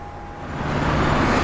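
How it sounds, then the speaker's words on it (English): Steady roar of busy Bangkok street traffic, a broad wash of car and engine noise that swells slightly louder toward the end, with no voices over it. "You can hear all the traffic in the background."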